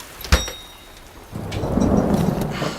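Torrential rain pours down in a sudden May storm: a sharp thunder crack at the start, then a loud, dense hiss of rain drumming on surfaces that builds and holds.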